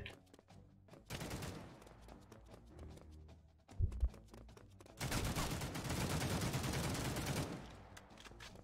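Bursts of automatic gunfire from The Mean Greens Plastic Warfare, a toy-soldier shooter on Xbox One: a short volley, a heavy thud or blast near the middle, then a sustained loud stream of rapid shots to the end.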